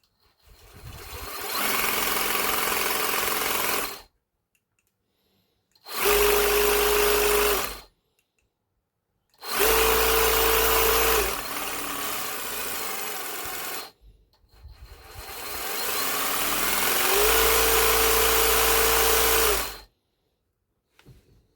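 A Stihl HSA 140R battery hedge cutter runs in four loud bursts separated by silence, its motor whine stepping up through three speed settings, each burst starting abruptly and cutting off sharply.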